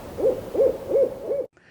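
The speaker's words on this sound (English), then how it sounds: "not able to turn their head like an owl" An owl hoots four times in an even rhythm, each call clear and close, before the sound cuts off abruptly into silence.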